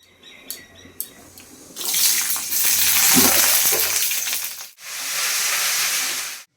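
Leafy greens hit a hot pan and sizzle loudly and steadily for several seconds, with a brief break before the hissing frying resumes, preceded by a few clinks of utensils.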